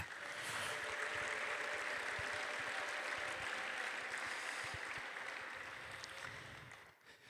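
A church congregation claps steadily and densely during a sermon, a sustained wash of applause that holds for about seven seconds before thinning out at the end.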